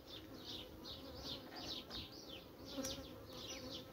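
A steady buzzing of many honeybees from a small, developing swarm colony in June, close and continuous, with individual bees droning past in overlapping waves.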